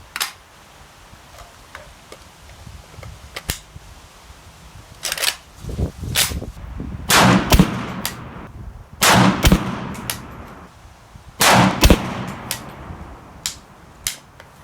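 A PSA AK-P 7.62x39 pistol firing full metal jacket rounds: several sharp, loud bangs spaced a couple of seconds apart, with fainter clicks and handling noises between them.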